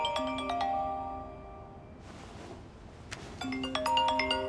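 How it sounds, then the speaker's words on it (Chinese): A mobile phone ringtone plays a bright, melodic electronic tune close by, breaking off briefly in the middle before starting again, with no talking over it. "你电话"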